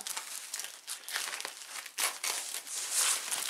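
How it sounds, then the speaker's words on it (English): Close, crisp crinkling and crumpling of packaging as a mail-order orchid is unwrapped, in short irregular bursts with small tearing rustles and no talking. "This little orchid that I am unwrapping right now."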